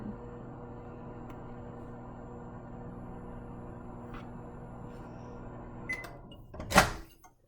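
A microwave oven runs with a steady, low electrical hum for about six seconds, heating something for short intervals, then a louder clunk and rattle, like the door or turntable, breaks in near the end.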